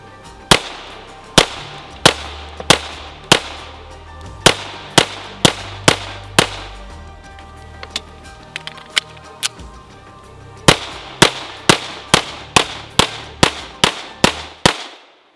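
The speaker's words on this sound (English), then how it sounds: "I'm shooting 115 grain Blazer ammo today, which is sort of jumpy." A Strike One pistol fires 115 grain Blazer ammunition outdoors, loud close sharp shots in quick strings with a short pause midway, each crack ringing briefly.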